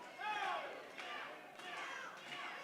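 Crowd cheering and chattering at an indoor independent wrestling show in McMecken, a faint, steady din of mixed voices with shouts rising and falling throughout.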